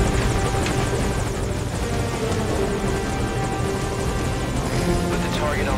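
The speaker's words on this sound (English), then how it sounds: "Put the target on the chopper." A helicopter lands in the video game Metal Gear Solid 5: Ground Zeroes, its steady loud rotor thrum and engine drone filling the whole stretch, with game speech mixed in.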